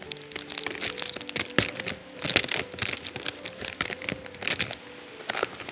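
A plastic bag crinkles and crackles close by as hands handle it during a mushroom-growing activity. The bursts are dense and irregular, and nobody talks over them.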